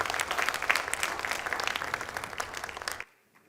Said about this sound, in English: can we please have another round of applause for her dedication and everything?